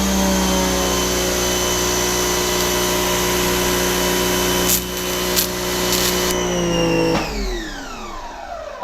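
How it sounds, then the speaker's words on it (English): A wall-mounted Giraffe Tools 2200 PSI Grandfalls pressure washer runs with a steady, loud motor whine and hum in an indoor space. Near the end it cuts off and spins down with a falling tone. "I can hear it kicking on and off in there"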